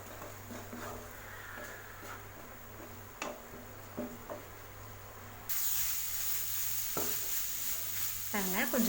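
Grated carrot and coconut sautéing with sugar for ladoo sizzle softly in a pan, with faint taps of stirring early on and a louder hiss swelling in the second half.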